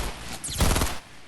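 An assault rifle in a console shooter game fires one short, rapid burst of shots lasting about half a second, fairly close, with no talking over it.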